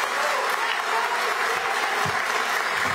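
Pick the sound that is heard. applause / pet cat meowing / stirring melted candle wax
applause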